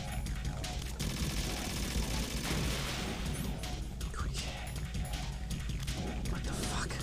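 Gunfire in Metal Gear Solid 2, with repeated rapid shots and sharp bursts over a dense, busy game soundscape at moderate level, continuing throughout.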